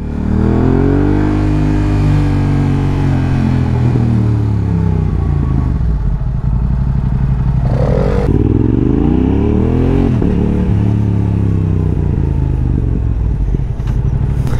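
A Yamaha R7 motorcycle fitted with a newly installed custom exhaust line revs loudly and close, its engine note sweeping up and down in repeated throttle blips over a continuous rumbling idle.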